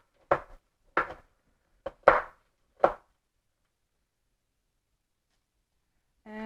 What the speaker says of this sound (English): I'm using these chunks and I'm going to chop them finely